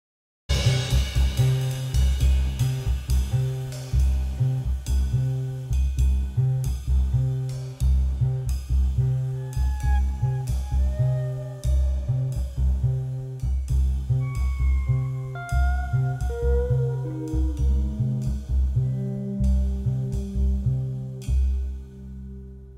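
A band plays an odd-metered tune mixing 4/4 and 7/8 bars, with drums and guitar active and a funky bass line driving the ending; the full mix is steady and loud throughout, fading only at the very end.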